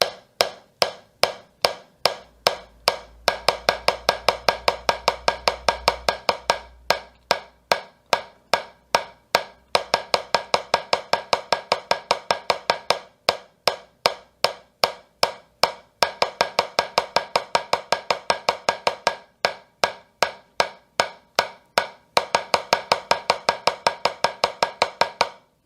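A slow drum speed exercise played with sticks gives a steady run of sharp, even strikes for over twenty-five seconds, in bursts of faster notes with brief pauses between, close and alone, with no talk.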